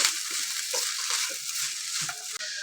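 Red amaranth stem greens sauté in an open pan as a cooking side dish, with a steady close hiss and sizzle and soft scraping stirs mixed in.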